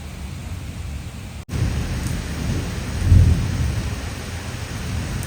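Heavy rain pours steadily with rolling thunder, a brief cut near the start and then a louder low rumble of thunder about midway, with no talking.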